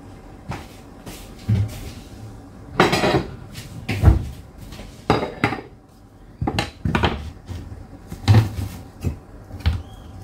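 A lid goes onto a cooking pot amid kitchen handling, with several sharp knocks and clatters spaced irregularly, close and fairly loud against low background hum.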